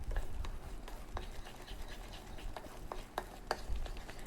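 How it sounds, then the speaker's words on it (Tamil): A spoon scrapes and stirs a thick seven cup sweet cooking down in a pan, with soft irregular scraping and occasional sharper knocks against the pan, fairly quiet and close. "கை விடாமல் கிளறி எடுத்துக்கலாம்"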